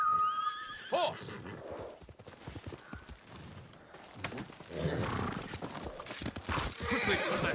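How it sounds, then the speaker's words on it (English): Horse neighing and galloping in the Ghost of Tsushima video game: a sharp whinny near the start, then a rapid clip-clop of hooves and rustling movement, loud and close, with in-game voices around it. "Horse!"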